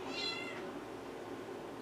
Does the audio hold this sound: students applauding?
no